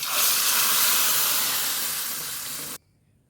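Hot oil tempering with curry leaves and dried chillies hits a taro-stem curry in one loud, sustained hiss that fades slightly before stopping sharply.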